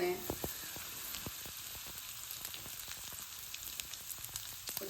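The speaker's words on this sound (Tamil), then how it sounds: "கொஞ்சம் கருவேப்பிலை, கொஞ்சம் தேங்காய் துருவல் எடுத்து வச்சுருந்தேன், அதை சேர்த்துக்கிறேன்." Curry leaves and grated coconut crackle in hot oil for a Kerala erisseri tempering: a steady close sizzle with scattered sharp pops and spits throughout, and no voices.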